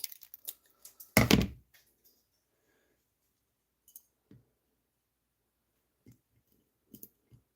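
Sharp scissors snipping small plastic pieces while customizing toy trucks, a few quick clicks followed by one louder cut, then sparse isolated snips and taps spaced across quiet gaps.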